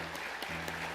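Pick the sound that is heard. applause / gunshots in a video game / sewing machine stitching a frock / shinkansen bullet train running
applause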